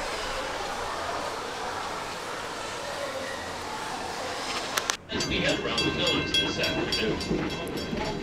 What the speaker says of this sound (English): here's our first ride in the train